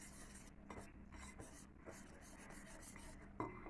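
Sugar and eggs are mixed in a bowl, producing a quiet continuous scraping and rubbing of a utensil against the bowl, steady and close, with a slightly sharper knock near the end.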